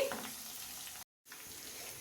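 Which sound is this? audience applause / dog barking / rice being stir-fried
rice being stir-fried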